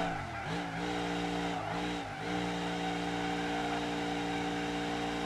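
A car drifting in a driving game mod, its engine holding a steady, buzzing harmonic drone while the pitch dips and recovers a few times early on, with tire squeal blending into the sustained, fairly faint mechanical hum.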